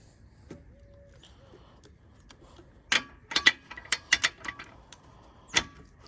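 A Hercules brushless impact driver removes a bolt, giving a short run of sharp, rattling mechanical clicks and bursts from about the three-second mark, loud and close after a quiet lead-in.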